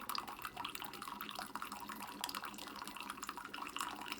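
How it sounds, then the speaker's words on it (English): A Keurig K Duo Plus coffee maker brewing, with a steady low hiss and trickle of liquid dripping continuously at moderate volume, no voices over it. "that's coming on quite fast, brewing nicely, steam coming off"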